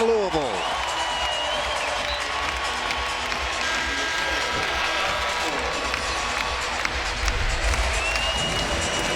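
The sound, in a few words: basketball crowd cheering in Louisville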